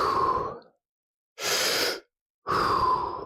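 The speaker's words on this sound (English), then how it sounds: "and now 3 deep breaths here." Slow, deep breaths taken while holding a stretch for low back pain. Three long, airy breath sounds are separated by clear silences, close and alone.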